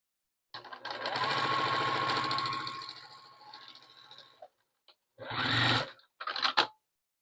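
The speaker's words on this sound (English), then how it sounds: "I'm getting ready to sew the last strip on" A sewing machine stitches the final fabric strip onto a jelly roll rug: one long steady run of about four seconds, then a short pause and two brief bursts, close and clear with no talking.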